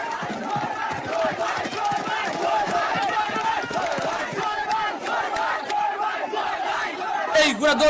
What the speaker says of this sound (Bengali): উল্লাস আর করতালিতে মুখরিত সুনামগঞ্জের আকাশ বাতাস